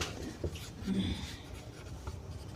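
Marker or chalk scratches and taps against a classroom board during a maths lesson, faint and close, with a voice speaking softly in the background.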